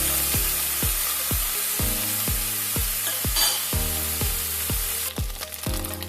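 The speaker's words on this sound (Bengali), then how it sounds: "মাছগুলো খুব ভালো করে ভাজা হয়ে গেছে, আমি এখন তুলে নিচ্ছি।" Oil sizzles steadily as small fish fry in a pan, with a regular series of low thumps recurring about twice a second.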